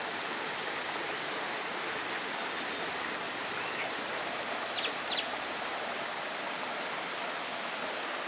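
Constant rushing of falling water at a downtown riverwalk fountain waterfall in San Angelo, Texas, steady and unbroken across the whole stretch, with a couple of brief bird chirps poking through midway and no speech.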